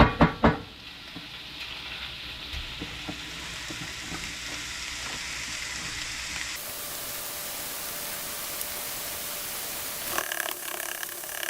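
Food sizzling and frying in a pan while biscuits and gravy are made, a steady close hiss with a few clatters at the start, then a brighter, louder spray-like sizzle in the latter half.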